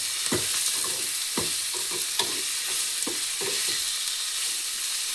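Chopped tomato sizzles and fries in an oily pan for sprouted horse gram sambar, with repeated stirring scrapes of a spoon over a steady, close, hissing background; no talking.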